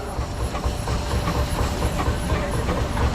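A 20 horsepower Advance Rumely steam traction engine rolls along in a thresheree parade, giving off a continuous loud hiss and low rumbling chuff with no break.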